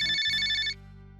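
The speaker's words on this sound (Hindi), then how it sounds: "देखिए मौसी जी का फोन आया है" A telephone ringtone sounds indoors for an incoming call, a bright repeating electronic trill that stops after under a second, leaving a low steady hum.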